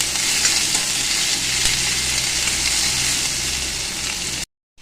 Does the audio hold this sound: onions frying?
yes